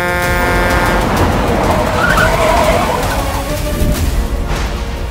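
A car is driven hard in a dramatized chase scene, with a loud continuous engine roar and skidding tire noise filling the whole stretch, no voices.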